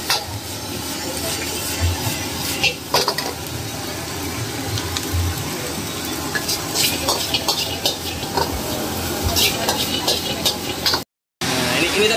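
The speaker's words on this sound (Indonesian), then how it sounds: "Sekarang tak liatin proses masak. Apa ini, Pak? Yang pertama ini? Kita nasi goreng bebek." Duck fried rice frying in a wok at a Bali street food stall: a steady hiss and sizzle with scattered clinks of stirring, moderately close, while people talk faintly in the background.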